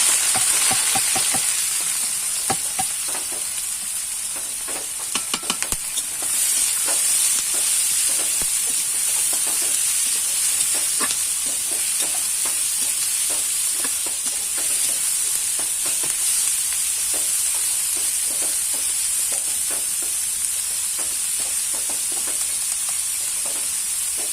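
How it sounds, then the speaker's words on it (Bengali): Sliced onions fry in hot oil in a pan for biryani birista, a loud, continuous sizzle and hiss with frequent scraping stirs all the way through. "আমরা পেঁয়াজগুলো ভেজে নেব। আগের থেকে আমরা পেঁয়াজ কেটে রেখেছিলাম। প্রথমে আমরা পেঁয়াজ বেরেস্তাটা করে নিই।"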